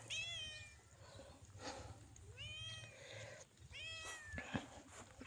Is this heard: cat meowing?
yes